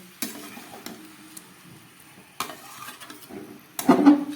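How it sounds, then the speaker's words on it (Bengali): A mixed vegetable labra curry sizzles in a pan as it is stirred, with a few scattered scrapes and a louder stirring burst at the end over a soft background hiss. "তরকারিটা কষাতে কষাতেই অনেকটা সিদ্ধ হয়ে গেছে"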